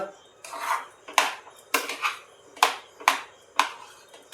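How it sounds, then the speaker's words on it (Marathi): A metal spoon mashing boiled potato in a pan, sharp scraping clinks repeating in an uneven rhythm about every half second, close and clear with no talk. "आता घालू याच्यामध्ये बटाटा असं चम्मचने चांगलं मॅश करून घेऊ"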